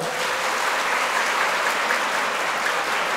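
Girls in a kirtan audience clap together in a full, steady burst of applause that holds at an even level for a few seconds, with no speech over it.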